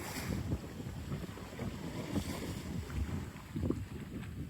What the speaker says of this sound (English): I hope you can hear the gurgling.